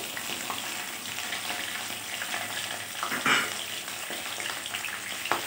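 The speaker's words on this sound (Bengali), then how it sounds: "মাছটা সবই আমি তেলে দিয়েছি।" Tilapia fish pieces fry in hot oil with a dense, continuous crackling sizzle, close and steady, and one brief brighter spit partway through.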